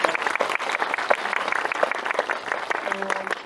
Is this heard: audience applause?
yes